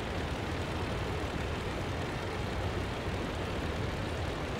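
Halberstadt D.II biplane engine throttled down during a dive in the Rise of Flight combat flight game, heard as a steady, even broadband roar and drone with no speech over it.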